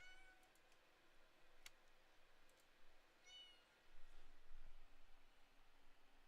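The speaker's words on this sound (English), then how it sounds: "It's my cat." A pet cat meows faintly a few times in a quiet room, with brief scattered calls over low background hiss and small clicks.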